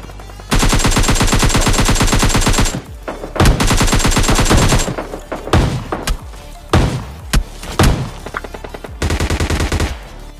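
Rapid bursts of shotgun and automatic gunfire in PUBG Mobile Lite, loud and close, coming in several long volleys separated by short gaps and sharp single shots, with no talk over it.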